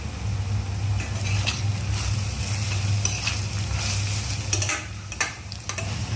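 Chicken frying in a pan is stirred after ginger paste is added, a steady hiss and sizzle with scraping stirs throughout, easing off a little toward the end.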